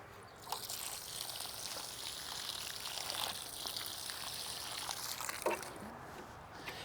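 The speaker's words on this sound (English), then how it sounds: "let me water it" Water pours and trickles onto the soil around a newly planted Olivia Austin rose bush, a steady wet splashing with a few brief bumps, fairly close and alone.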